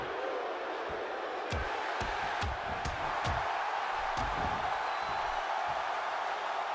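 Wrestling arena crowd in the WWE 2K16 video game, a continuous distant roar of cheering with scattered sharp thuds and impacts from the ring breaking through.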